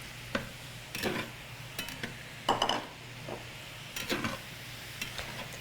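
Potatoes, onions and apples are stirred in a buttered pan with a few scattered scraping clinks of a utensil against the pan over a faint sizzle, close and quiet.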